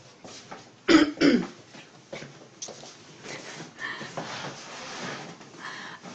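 Two sharp coughs near the start, followed by quieter throat sounds and faint low murmuring.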